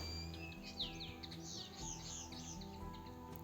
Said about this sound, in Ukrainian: як гарно співають пташки